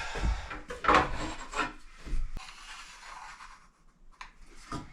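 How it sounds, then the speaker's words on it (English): A saw rasps through a kitchen countertop during an install in an off-grid Alaska tiny house, giving a few seconds of close, rough scraping strokes that fade toward the end. "kind of scary cutting this countertop, I'll tell you that."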